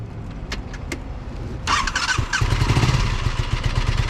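A Kawasaki Ninja 636 motorcycle engine starts and runs in neutral nearby, a low rumbling idle following a few sharp clicks and a burst of noise.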